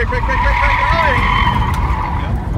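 A car braking hard on an EVOC police driving course, with a loud, steady engine roar and a short, rising-and-falling tire squeal partway through, while people talk over it.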